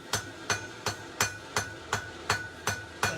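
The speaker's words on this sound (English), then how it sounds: "I'm going to bring it out, and I'm just going to tack weld it" Hammer blows on hot steel at a forge, tack-welding a hook; eight sharp, evenly spaced ringing strikes, close and loud, with no talk.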